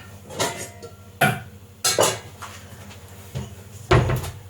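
A cupboard opened and closed and a bigger mixing bowl pulled out while making chocolate pudding: a few sharp knocks and clatters of a bowl and cabinet door, spaced irregularly, close by with no talk.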